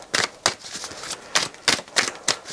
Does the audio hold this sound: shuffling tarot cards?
yes